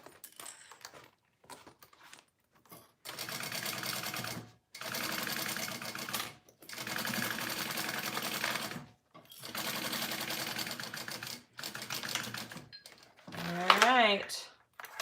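A sewing machine basting foam runs in several separate bursts of steady mechanical stitching, each a few seconds long, with short pauses between them and a sharp clatter near the end.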